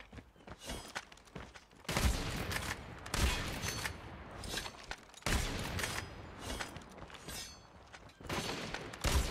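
Video game gunfire: a weapon fires in repeated loud bursts about every second and a half until the ammunition runs out, with no talking.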